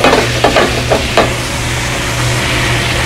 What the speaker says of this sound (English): This is gonna take a few minutes while the potatoes start to brown and color.